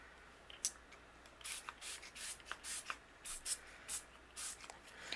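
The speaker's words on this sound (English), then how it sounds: "I'm going to spray my butterflies and my greeting" Short hissing spritzes of Sparkle Shimmer Spritz misted onto paper butterflies and a stamped greeting, a dozen or so quick bursts in an uneven rhythm, close and soft, with no talking.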